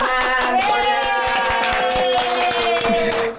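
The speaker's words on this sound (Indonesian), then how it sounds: "Yeay. Tepuk tangan." Hand clapping at the opening of a podcast studio recording, a close, loud burst of rhythmic claps from a few people continuing steadily with some vocal tones mixed in.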